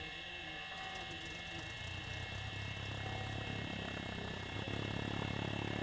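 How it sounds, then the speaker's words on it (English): The single propeller engine of a Cessna C152 in a flight game starts and drones steadily, its low hum building slightly louder toward the end, with no voices. "We can start our engine. We only have one engine on this plane, poor little Cessna."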